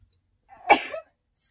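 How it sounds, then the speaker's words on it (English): One short, explosive sneeze bursts out close by, breaking a near-silent background that has only a faint trace of sound afterward. "I'm gonna sneeze."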